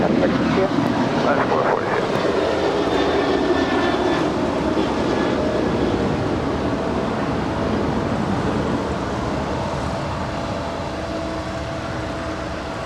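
An Alaska Airlines Boeing 737-800 jet at LAX gives a broad, steady engine roar that slowly fades as it passes, with wind noise and a voice talking over it.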